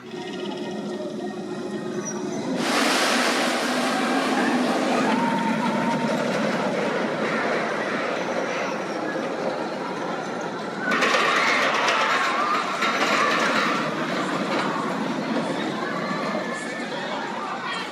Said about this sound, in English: Rides on Runaway Mine Train to finish it off